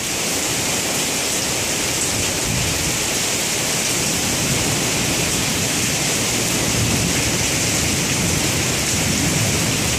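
Heavy rain from a derecho storm in Crestwood, Kentucky pours down in a dense, steady roar, loud and unbroken from start to finish with no talk.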